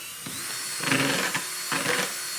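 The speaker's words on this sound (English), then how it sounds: "paint stirrer attached to a drill, and it actually works fairly nice" Power drill spinning a paint stirrer through a mix of sawdust and wax, a whining motor in two or three short bursts close by, with gritty stirring noise.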